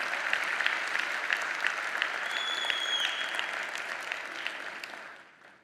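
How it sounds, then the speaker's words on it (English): Applause from a big conference audience at a global AI summit, a sustained even round of clapping with a faint whistle-like tone partway through, fading out at the end. "I'd like to pause here for a round of applause for this amazing team"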